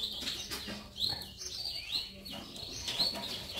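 Canary chicks in an aviary give high, thin chirps in short bursts, repeated several times over a steady background murmur.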